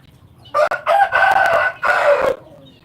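A derby gamecock rooster crows once, close and loud, a strained multi-part call lasting about two seconds with a short break in the middle, against quiet background.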